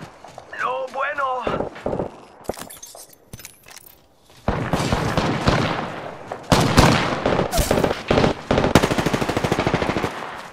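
Rapid automatic gunfire from Apex Legends battle royale combat, with dense bursts of shots that grow louder and heavier in the second half, mixed with game effects and a short voiced callout.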